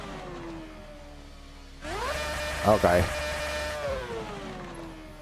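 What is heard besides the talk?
race car engine in video game Assetto Corsa, VR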